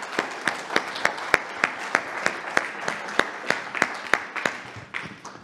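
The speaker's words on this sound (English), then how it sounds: "I'd like to give Debbie another round of applause for that" A small group at a staff meeting claps for a colleague, with individual claps standing out clearly in a loose, uneven patter that fades slightly at the end.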